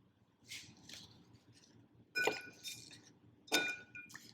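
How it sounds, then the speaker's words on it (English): Gin being stirred over ice in a glass for a Vesper martini, giving a few bright clinks and rattles of ice against glass, soft and close. "We're going to stir that over ice."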